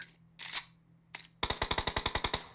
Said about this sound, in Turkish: Silah sesleri gelmeye başladı.